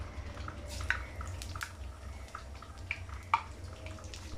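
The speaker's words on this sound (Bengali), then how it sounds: "পাঁচফোড়নগুলো যখন কিছুটা ভাজতে শুরু করেছে" A teaspoon of panch phoron spices sizzles in half a cup of mustard oil in a pan on the stove, giving faint, scattered crackles and small pops over a low, steady hum.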